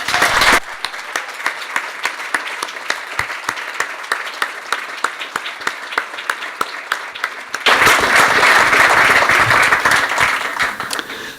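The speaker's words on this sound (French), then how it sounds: "je vous demande de tous les applaudir" Applause at a speech starts after a brief pause, first as scattered, distinct claps, then swells into a full, loud ovation from the audience in the final seconds.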